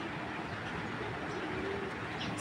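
Pigeons coo softly and low in the background of a loft, a faint murmuring under a steady wash of ambient noise, with no one speaking.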